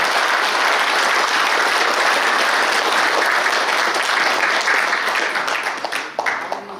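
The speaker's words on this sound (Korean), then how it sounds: "네, 격려의 박수 부탁드립니다." Sustained audience applause fills a New Year ceremony hall at a military academy alumni association's chairman inauguration, dense and steady before tapering off near the end.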